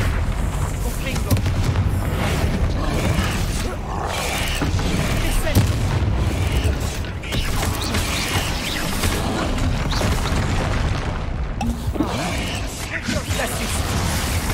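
A Confringo blasting spell goes off with dense, booming explosive blasts and crashing debris, loud and sustained across the whole stretch with a mix of rumbling impacts and mechanical noise, voices faintly mixed in.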